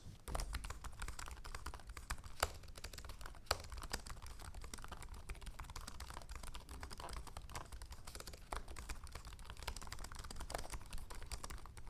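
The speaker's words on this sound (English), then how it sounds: "This is a typing test so you can hear how the keyboard sounds." Soft, rapid clicking of a backlit Lenovo Yoga Slim 7i Pro X laptop keyboard being typed on, a steady irregular patter of light taps, quiet and close.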